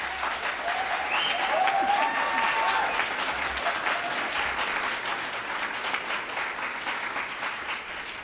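A municipal election debate audience for Orem City claps in a steady, full burst of applause that fades slightly toward the end, with a few voices faintly audible underneath.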